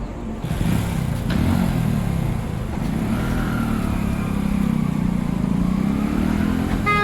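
A motorcycle engine drones steadily up close as the bike rides off for a night ride, with a rough, continuous hum and faint clatter throughout.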